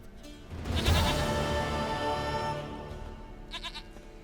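A goat in The Witcher 3 gives a loud, wavering bleat near the start, followed by a quieter shorter bleat near the end, with no talk over it.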